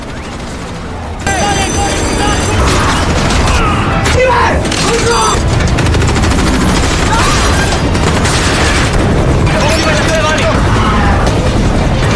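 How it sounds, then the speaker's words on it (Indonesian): Heavy gunfire in a war-movie train fight, with rapid shots, booms and thuds overlapping continuously and loud after a quieter opening, mixed with score and effects. "Lee Christmas, Gunnar Jensen, dan Tool Roth mulai menembaki para penjaga yang membalas tembakan."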